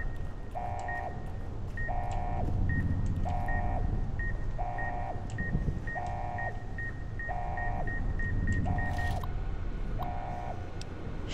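Alarm in the Sierra Madre vault in Fallout: New Vegas: a steady, evenly spaced two-tone electronic beeping, about one pulse per second, repeating under a low rumbling game ambience until it cuts off near the end.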